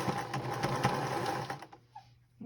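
Sewing machine stitching binding onto a quilted star table topper, a fast steady mechanical whir with rapid needle clatter that stops abruptly after about a second and a half, leaving near silence and a soft click.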